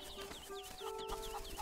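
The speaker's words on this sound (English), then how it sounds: "So... now we have a little rooster man." Chiptune-style rooster clucks from the Link's Awakening game, a few short chirping calls repeating over a steady game music loop, with no talking.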